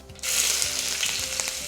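Cumin seeds and onion hit hot mustard oil and set off a sudden loud sizzle that holds steady and close, with a few faint stirring taps and no talking.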